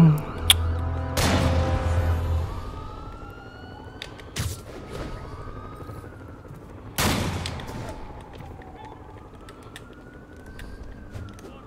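Sniper rifle shots fired by escaped convicts in the video game Marvel's Spider-Man Remastered, three loud, booming reports spaced a few seconds apart, with a wailing siren rising and falling underneath.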